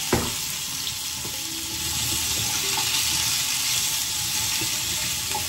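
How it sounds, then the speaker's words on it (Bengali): Vegetables frying in a pan on a home stove give a steady, close sizzle that holds evenly throughout, with no talking. "মানে ভাজা বসিয়েছি আর কি"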